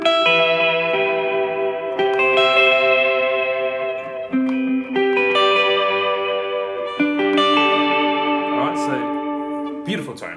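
Electric guitar notes ringing through an echo effect, each repeat trailing off and drifting slightly out of tune, sustained and fairly loud.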